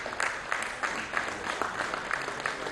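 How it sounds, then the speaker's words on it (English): An audience at a high-level policy dialogue gives steady applause for a conference moderator, a dense wash of many hands clapping at a moderate distance and holding even throughout. "Please, let's welcome him with a round of applause."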